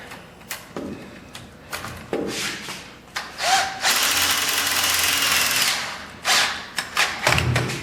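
Power drill driving self-tapping tech screws into a sheet-metal panel on a 1959 GMC Fleetside truck, with short bursts of whirring and clunks, then a longer sustained run as a screw drives in, fairly close and loud.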